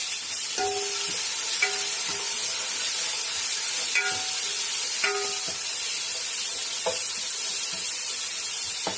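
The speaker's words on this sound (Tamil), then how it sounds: "இப்போ இந்த பூண்டும் கருவேப்பிலையும் எடுத்து அதில் போட்டுக்கலாம்." Garlic and curry leaves frying in oil for a fish kuzhambu give a steady loud sizzling hiss, punctuated by several brief clinks of a spoon against the pan.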